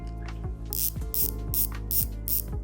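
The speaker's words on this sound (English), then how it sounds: "That Bezel Action is so crisp." Rolex Submariner dive watch bezel turned by hand, giving a series of sharp, crisp ratcheting clicks in a steady rhythm, close and clear with no talking.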